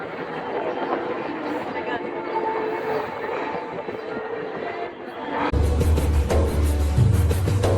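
An Istanbul metro train crossing the Golden Horn rumbles and rattles steadily, the low roar swelling louder partway through as the car picks up speed, with passenger chatter underneath.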